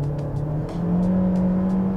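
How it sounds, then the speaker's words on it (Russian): A Toyota Corolla Fielder 1.8 accelerates in sport mode with a steady, rising engine drone heard from inside the cabin, loud and continuous. "Нажимаем газ и жмем кнопку «Спорт»."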